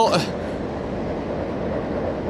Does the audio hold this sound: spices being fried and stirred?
no